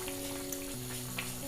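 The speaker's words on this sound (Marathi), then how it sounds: "आता आपल्या मटकीला उकळी आलेली" Moth beans (matki) bubbling in a pot of water as misal simmers, a faint steady bubbling and sizzling alone at low level.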